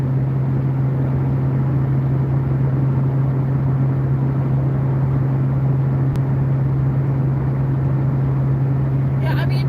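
Steady cabin hum inside a 1981 Ford Capri while cruising, a constant low engine and road drone with a strong steady tone, even and continuous throughout, moderately loud but quiet enough for conversation.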